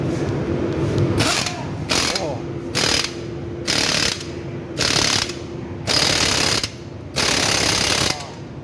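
Ratchet wrench tightening a bolt on an Isuzu truck with a broken axle, loud close clicking bursts repeated about six times in steady strokes, alone without talk.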